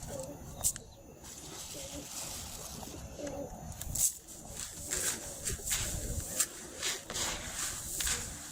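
Domestic pigeons coo softly in a loft with faint rustling and shuffling, low murmuring calls repeating on and off under an ambient background.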